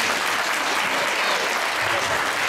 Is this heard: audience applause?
yes